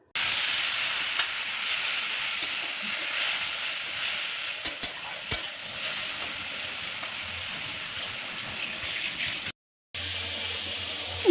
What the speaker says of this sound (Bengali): এক চামচ মরিচ গুঁড়ো, এক চামচ জিরে গুঁড়ো দিয়ে একটু জল দিয়ে ভালো করে কষিয়ে নিব